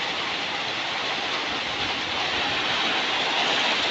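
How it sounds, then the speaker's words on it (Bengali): Heavy rain pours just outside an open door as a dense, unbroken hiss and roar, loud and steady throughout with no voices. "আমার ঘরে জল ঢুকে যাচ্ছে, এত জোর বৃষ্টি পড়ছে"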